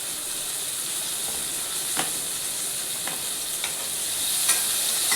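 Tomatoes and onion sautéing in hot oil give a steady, bright sizzling hiss throughout, with a few soft stirring taps.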